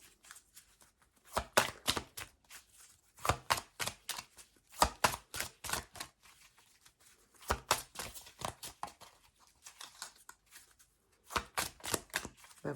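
Tarot cards are shuffled close up in quick riffling bursts of rapid flicks, several rounds separated by short pauses, with no talk.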